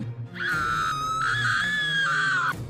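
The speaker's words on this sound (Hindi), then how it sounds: "निशा के मुंह से जोर से चीख निकली" A woman lets out a loud, sustained scream lasting about two seconds over a low background hum, used as a horror story sound effect.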